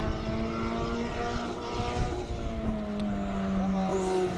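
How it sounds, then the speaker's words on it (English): A Mercedes-Benz A45 with a four-cylinder turbo engine climbs a hill at a Cape Town hillclimb race, its engine note steady and droning in the distance under a continuous outdoor roar. "with the Mercedes-Benz A45"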